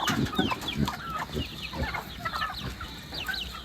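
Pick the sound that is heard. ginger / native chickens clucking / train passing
native chickens clucking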